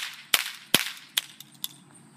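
A toy cap gun fired by pulling the trigger gives five sharp, crackling pops at uneven intervals, the first two loudest and the rest quicker and fainter, with no talking over them.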